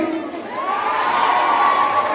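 An audience at a college union inauguration cheers and shouts in a steady, dense burst of crowd noise, loud and sustained throughout.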